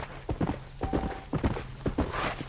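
Horse hooves clip-clop at a steady walking rhythm in the Western open-world game Red Dead Redemption, fairly close and clear, with a low ambient hum beneath and no talking.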